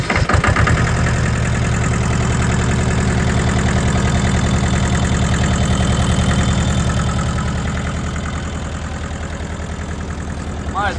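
An old, cheap tractor engine, freshly started after a loose battery cable was fixed, runs loud and close with a rough, knocking idle that stays steady and then eases slightly lower toward the end.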